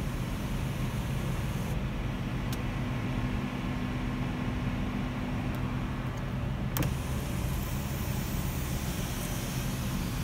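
The power sunroof of a 2014 Dodge Journey R/T opens with a faint, steady electric motor whir inside the cabin. Soft clicks mark the start and stop over the car's background hiss.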